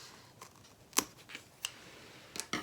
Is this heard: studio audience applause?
no